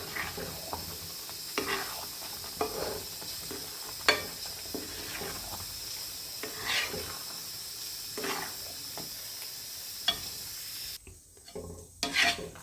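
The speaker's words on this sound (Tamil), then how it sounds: "நல்லா கிளறி விடணும்." Shallot thokku is stirred in a pan, a low sizzle punctuated by regular scraping strokes every second or so, fairly close and fading to quieter scrapes at the end.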